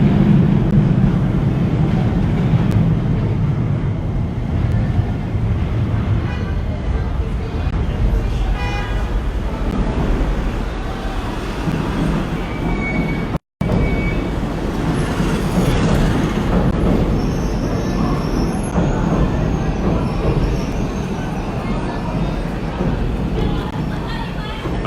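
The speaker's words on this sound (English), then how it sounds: "now that the train is gone" A train rumbles steadily past at close range in Nakameguro, Tokyo, at night, a loud continuous roar with rattling, while a voice talks over it.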